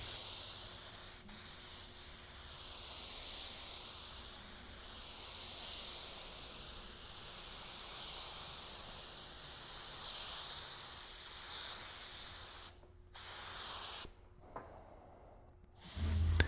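A spray gun lays base coat paint onto a car in a continuous loud hiss with gently wavering passes, broken near the end by a few brief pauses between strokes.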